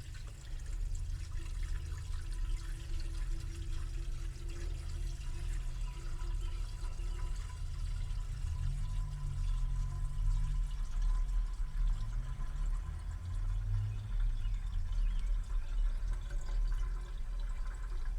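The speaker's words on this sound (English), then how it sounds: "Pour some water in it." Water poured into the radiator of an overheating 1968 Dodge Charger, a steady splashing and gurgling pour close by with a low engine rumble beneath, lasting the whole stretch.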